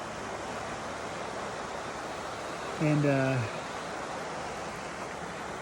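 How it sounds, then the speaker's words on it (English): A full creek rushes in a steady, broad hiss of flowing water close by, with a brief spoken word rising over the constant flow. "I'm here near the creek and I just wanted to show you the creek is so nice and so full today."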